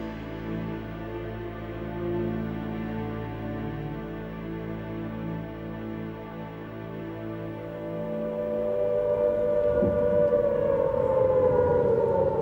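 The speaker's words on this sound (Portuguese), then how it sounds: "as sirenes começaram a soar em Londres" Air raid sirens wail across London in World War II, a steady droning tone building and rising in pitch near the end, loud and continuous with no voices.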